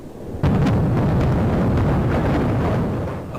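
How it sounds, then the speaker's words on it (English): Explosions from an Iranian rocket attack on Israel: a loud, sustained rumbling roar of blasts starts abruptly and stays dense with crackling bursts before slowly easing off. "Explosions and sirens ringing out in Iran and Israel Friday night."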